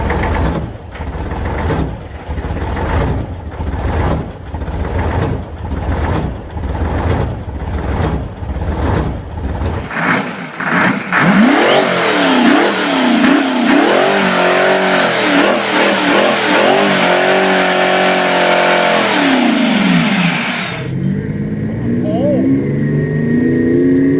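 A Detroit diesel engine built from bolted-together V6 blocks with 353 heads runs loud and close, first a rapid pulsing idle, then revving up and down in surging sweeps before settling lower.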